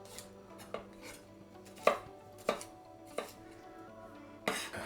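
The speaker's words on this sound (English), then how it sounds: "and then the same with the garlic. Just cut that into smaller pieces." Garlic cut into small pieces with a knife on a board, six or so distinct close chops spaced unevenly over a quiet background, no talking.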